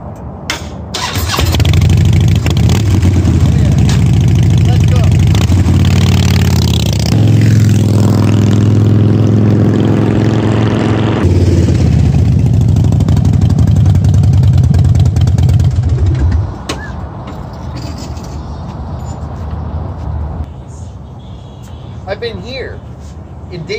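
A Harley-Davidson motorcycle at a Daytona Beach dealership starts up and revs loudly close by, its deep rumbling engine rising and holding before easing off to a quieter idle and ride-away.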